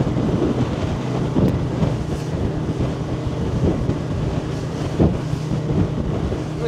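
Quintrex 440 Renegade aluminium boat running at about 38 km/h through choppy water, a steady loud outboard engine drone mixed with wind buffeting and hull slaps throughout, no talking.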